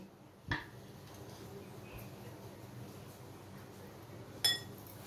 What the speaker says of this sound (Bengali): এবার আমি ঢাকনাটা খুলে দিচ্ছি।